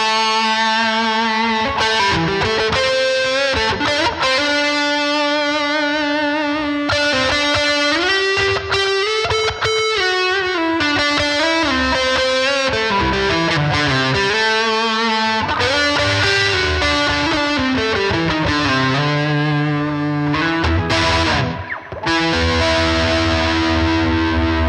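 An electric guitar on its neck-position pickup, run through a Klon overdrive and played with series/parallel pickup switching, rings out in distorted chords and sliding melodic runs, loud and continuous throughout with no talking.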